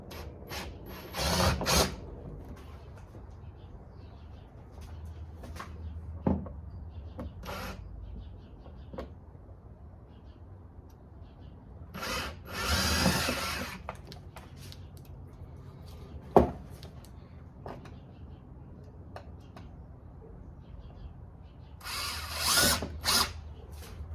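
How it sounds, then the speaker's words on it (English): A power drill bores a pilot hole to mount a front underbody spoiler on a 10th-generation Honda Accord, in several short whirring bursts of a few seconds each, separated by quiet gaps with small clicks and handling noises. "Once you got that, then you're gonna go to a bigger drill bit."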